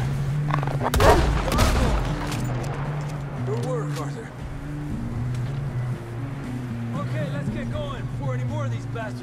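Gunfire in Red Dead Redemption 2 during the prologue, a sharp volley of shots near the start followed by scattered pops over a constant low rumble and shouting voices.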